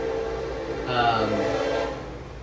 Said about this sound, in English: sorry about the train.